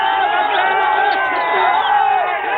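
Cricket fans celebrate India's win over South Africa with a dense, continuous wall of crowd noise: many voices cheering, chanting and shouting together at a steady, loud level throughout.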